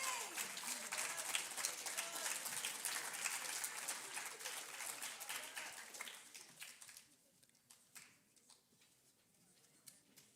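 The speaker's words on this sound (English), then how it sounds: "Go ahead and clap." An audience at a junior high academic awards ceremony claps in a dense, fairly distant burst of applause that thins out to a few scattered claps by the end.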